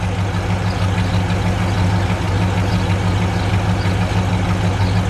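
A 1964 Plymouth Sport Fury convertible with a 426 Street Wedge engine idles in neutral, giving a steady, deep, close rumble that stays even from start to finish.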